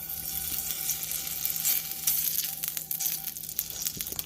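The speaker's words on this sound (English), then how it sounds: "we know that our oil is ready if this sizzles when we put it in." Hot oil in a pot sizzling loudly as food is added for a breakfast scramble, a continuous bright crackle with popping bursts throughout.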